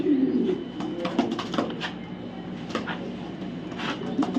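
A racing pigeon coos close by in repeated low throaty phrases, with faint rustling and background noise.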